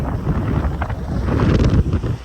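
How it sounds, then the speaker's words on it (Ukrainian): Strong wind on a beach buffets the microphone in a steady, loud roar with gusts swelling and dipping throughout, no voices present. "Сильний вітер."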